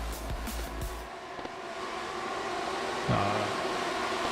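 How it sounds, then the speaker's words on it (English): Race car engine in the iRacing sim, a steady droning hum with a harsher burst near the start and a brief rise in pitch toward the end, continuous and fairly close. "The car sounds shit, but that's not iRacing's fault."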